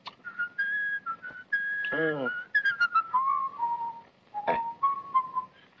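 A person whistles the melody of an Italian song, clear sustained tones with slides and short breaks, close and alone apart from a brief vocal exclamation.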